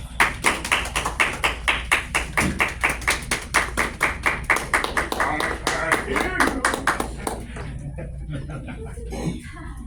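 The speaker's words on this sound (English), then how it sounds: "Let's give him a round of applause" A small meeting group claps for the table topics master, brisk rhythmic hand claps close by that fade and thin out after about seven seconds, giving way to quiet room noise.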